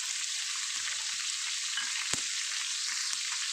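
Goat blood fry with coriander powder and garam masala sizzles in a pan with a steady, bright hiss and one sharp utensil tap, close but fairly soft, with no voices.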